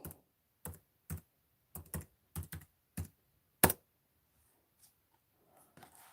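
Roughly ten separate, crisp keystrokes on a computer keyboard as a password is entered, spaced irregularly and close by, before the typing stops and near-silence follows.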